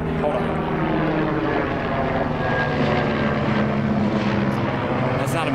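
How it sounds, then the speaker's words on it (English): A helicopter flies overhead at a golf course, its steady droning engine and rotor hum filling the scene at moderate loudness, with no break in the sound. "That's not a military helicopter"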